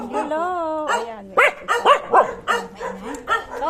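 A dog gives a run of sharp, close barks and yips mixed with whimpers, and a person's voice is heard at the start.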